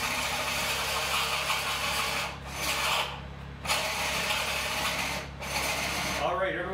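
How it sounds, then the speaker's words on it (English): A drill bores into the end grain of a wooden log to hollow out a tea light holder, a steady loud grinding rasp in long bursts separated by short pauses, close up. "I find the very center end grain right there, and that's where I'm gonna start drilling"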